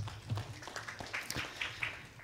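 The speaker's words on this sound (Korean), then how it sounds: "네, 박수 부탁드리겠습니다." Scattered clapping from a small audience at a panel forum, faint and distant, with sparse individual claps rather than a full ovation over a short stretch.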